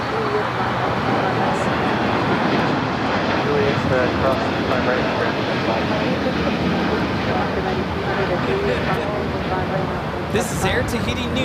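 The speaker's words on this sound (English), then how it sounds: "Now we got that Air Tahiti Nui Dreamliner heading to Paris." An Air Tahiti Nui Boeing 787-9 Dreamliner takes off from runway 25 right at LAX with a loud, sustained engine roar filling the whole stretch, while people talk over it.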